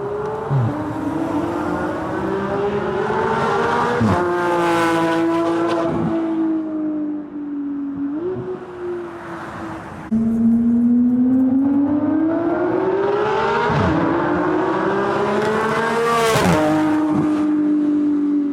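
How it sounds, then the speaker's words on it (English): A Porsche GT3 RS fitted with a 1016 Industries exhaust revs hard twice, each loud, close, high-pitched wail climbing and falling with a brief dip between runs, no talk over it. "that's a really nice sounding GT3 RS"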